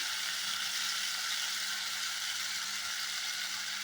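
Tamarind juice hits a hot pan in a steady, loud sizzle, a bright continuous hiss with no break, heard alone without talk.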